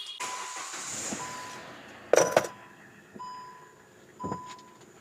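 A diesel Hyundai i20 cranks and catches with a brief loud burst, then settles into a quiet, steady idle hum close by.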